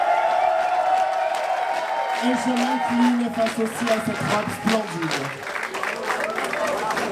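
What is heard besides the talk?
audience applause for a drag performer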